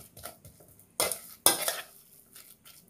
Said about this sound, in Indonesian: Kemudian tak aduk ya.